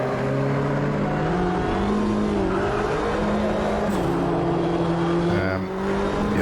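A Mini Cooper JCW, front-wheel drive, races at Donington Short in Automobilista 2, its engine droning steadily and shifting pitch through gear changes, loud and constant throughout.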